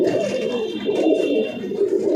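A tournament racing pigeon coos steadily at close range, a low rolling purr that continues throughout without pause, loud and clear with no talking.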